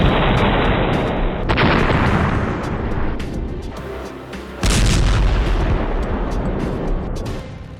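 Explosion destroying a military bulldozer in the Tel al-Hawa area of Gaza: loud, continuous booming and rumbling blast noise that swells, eases, then surges again with a sharp fresh burst partway through, with no talk.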